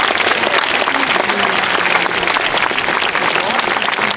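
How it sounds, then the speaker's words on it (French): Audience at a medieval festival applauding, a dense continuous round of clapping with crowd voices and talk mixed in, steady and loud throughout. "je crois que vous pouvez lui faire un applaudissement"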